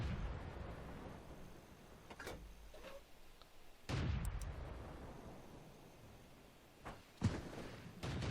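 An SU-5 self-propelled artillery gun fires in World of Tanks on the Westfield map: two heavy booming shots a few seconds apart, each decaying into a rumble, under a quiet background.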